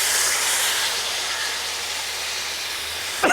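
Squeezed tamarind extract, about a 50 g ball's worth, hits a hot frying pan for puli inji curry, giving a loud, steady broadband hiss and sizzle that holds throughout before a short clatter at the end.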